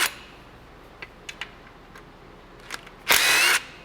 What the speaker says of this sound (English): Pull all these bolts out.